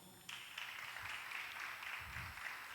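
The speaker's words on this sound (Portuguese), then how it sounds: "Aplauda o Senhor." Church congregation applauding during a service, a faint, distant wash of clapping that starts suddenly and carries on evenly for a couple of seconds.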